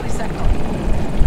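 A helicopter in Battlefield 2042 drones steadily with a low rotor rumble throughout, loud and continuous, while someone talks over it.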